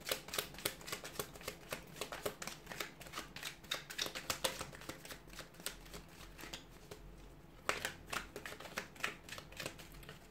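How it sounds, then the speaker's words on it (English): Tarot cards riffle and snap in quick repeated bursts, a close, crisp flutter with brief pauses between shuffles. "Let's give the cards a shuffle and see what messages they have for you here."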